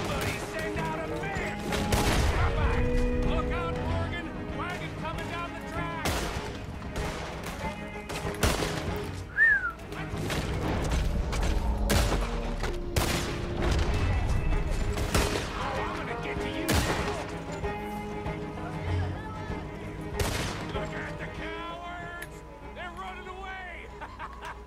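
Gunfire from a gun in the video game Red Dead Redemption 2 rings out in repeated sharp bursts over a loud battle mix, with voices talking throughout.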